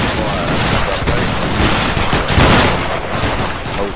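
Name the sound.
musket volley fire in the Battle Grounds III video game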